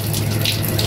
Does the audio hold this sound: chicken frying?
no